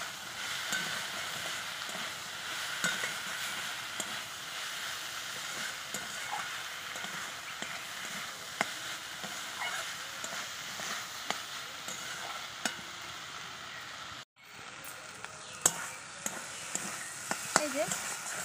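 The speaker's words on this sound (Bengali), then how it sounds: "তো আমি আর একটু ভাজা ভাজা করে নিব।" Boiled Malabar spinach fruit and mixed vegetables fry in oil with a little sugar in a rural Bengali kitchen, a steady sizzle running throughout with intermittent scraping stir clicks, close and fairly loud, with a brief pause near the end.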